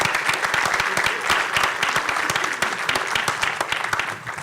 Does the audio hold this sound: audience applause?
yes